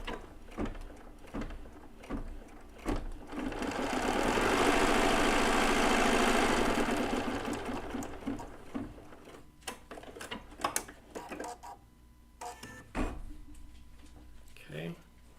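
Bernina B990 embroidery machine sewing a placement stitch, a steady mechanical whirring hum that swells in the middle and then gives way to clicks and handling noises, with speech heard intermittently alongside.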